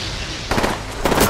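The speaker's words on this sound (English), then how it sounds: "Getting shot at!" Gunfire in the video game Apex Legends, with two loud close bursts of rapid shots over a steady background din, the second burst arriving about half a second after the first.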